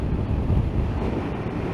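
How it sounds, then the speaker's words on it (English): Strong wind roars and buffets against the microphone while riding a 2022 CF Moto 300SR motorcycle along a dual carriageway, a constant loud rumble with no voices. "it is very, very windy"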